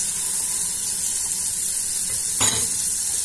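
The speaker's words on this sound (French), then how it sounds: "Maintenant, je vais mettre l'oignon et la tomate." Steady, loud sizzling of onion and tomato frying with spice-coated meat in a pan for a Moroccan dish, with a brief louder crackle and stirring scrape near the end and no voices.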